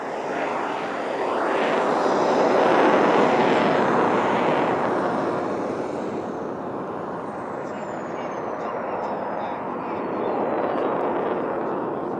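A non-afterburning jet trainer flies aerobatics at the Italian Air Force centenary airshow, producing a loud, sustained roaring jet whoosh that swells and fades as it passes and climbs, heard from the ground at a distance.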